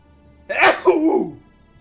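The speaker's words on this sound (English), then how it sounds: "Big sneeze." A single big sneeze rings out close and loud, a sharp burst that trails off into a fading exhale.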